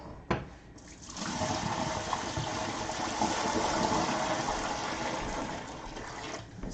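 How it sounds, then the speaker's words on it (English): Hot water pours and rushes steadily down a kitchen drain, a broad continuous gush that starts after a brief clunk and tapers off at the end. "This hot water helped clean out the drain."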